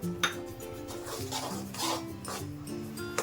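A spoon stirs a sweet mixture of powder and ghee in a pan, with steady scraping and soft metallic clinks over a faint tonal background.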